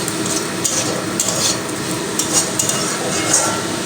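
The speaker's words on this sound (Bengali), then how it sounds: "তো আরও আমি দুই থেকে তিন মিনিট সময় নিয়ে ভাজা ভাজা করে নেব" Radish greens frying with onions and sugar, stirred in a hot pan: a dense, continuous sizzle with repeated scraping strokes of the spatula, close and loud.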